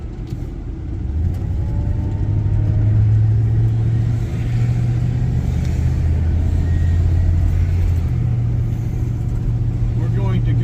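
A car drives along Columbia Drive in Decatur, Georgia, and turns right onto the road, giving a steady, close low engine rumble from inside the cabin with a slight rise in revs partway through.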